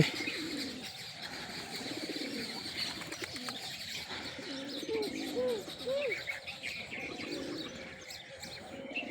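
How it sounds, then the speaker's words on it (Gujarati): Pigeons being fed rice coo softly in repeated low rolling calls, with other birds chirping around them against a steady outdoor background. "છોટુભાઈ કબૂતરને ચોખા નાખે છે."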